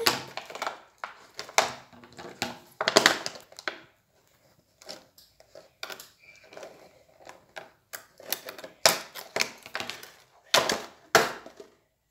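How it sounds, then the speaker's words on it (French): Close, irregular clipping and snipping as small plastic tips are cut off doll packaging, with crisp clicks and rustling plastic in uneven bursts and short pauses, no talk over it. "Couper les petits embouts en plastique."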